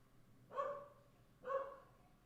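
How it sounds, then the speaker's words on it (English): A dog barks twice at a distance, two short muffled woofs about a second apart, faint against quiet background. "Is that your dog?"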